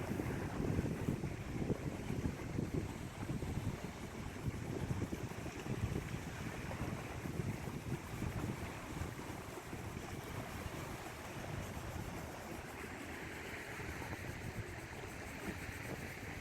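Water laps and washes in gentle waves at an outdoor nature spot, a quiet, continuous swishing surf mixed with light wind rumble, faint and distant, with no talking.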